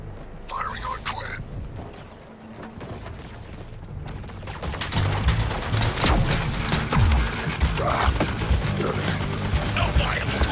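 Gunfire in the PS5 game Suicide Squad Kill the Justice League, rapid bursts of shots and impacts that swell into a loud, dense fusillade after a quieter start, with a character's voice speaking over the combat.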